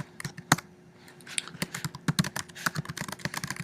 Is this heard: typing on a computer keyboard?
yes